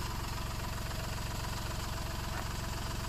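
A rusty old diesel car engine with 390,000 km on it idles loudly and steadily close by, a rough, evenly pulsing rumble with a slight knock and no speech.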